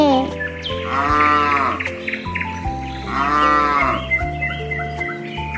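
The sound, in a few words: cow mooing sound effect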